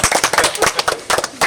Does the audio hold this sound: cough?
no